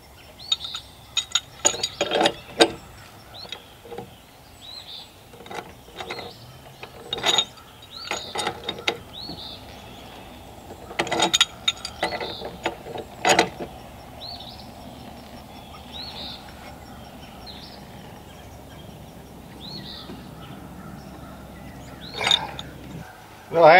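Metal propane fittings are being screwed together by hand with valve ends and reducers, giving scattered clinks and brief ratchety turns up close, while birds chirp faintly in the background.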